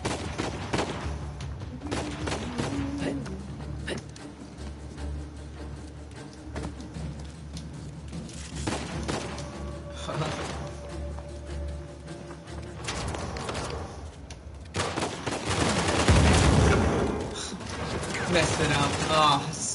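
Gunfire in Uncharted: The Lost Legacy, a dense run of shots and bursts that swells louder toward the end, mixed with game effects and a voice talking over it.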